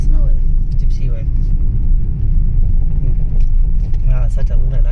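A Gypsy safari jeep driving on a Pench forest trip, its engine a steady close rumble with rattles and jangles, while people talk over it throughout.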